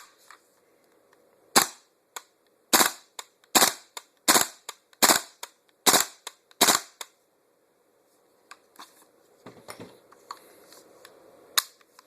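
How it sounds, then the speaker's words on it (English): Dry-fire clicks from a KWA Kriss Vector airsoft gun, seven sharp, close mechanical snaps in a quick uneven series, then a pause and a softer scattering of handling rattles with one last click. "Go ahead and lock this down for now so I can dry fire this."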